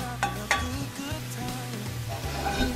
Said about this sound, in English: We're just trying to get the mushrooms to soften up a bit and just go ahead and try to get the garlic to become fragrant